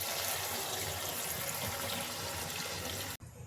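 Water pours from a tap into a pan of chicken kosha curry to make the gravy. It is a steady, rushing splash for about three seconds that cuts off abruptly, with no voices.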